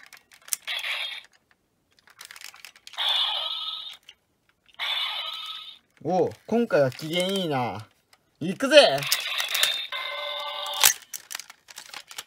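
An old Zubaan toy from Boukenger plays its electronic sound effects in short bursts, with clicks and buzzy warbling tones that cut out abruptly, and someone speaks briefly between them.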